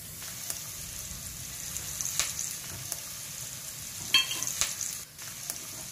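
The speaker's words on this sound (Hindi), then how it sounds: "छौंक लगाने के लिए तेल हमने कढ़ाई में गरम कर लिया है और फटाफट से तड़का लगा लेते हैं" Cumin and asafoetida crackle and sizzle in hot oil in a kadhai for tempering, with a few sharp pops, steady frying hiss, no voices.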